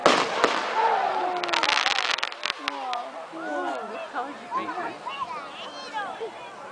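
Fireworks going off at a display, sharp pops and crackles bursting close together early on, then sparser bangs as people talk and exclaim over them.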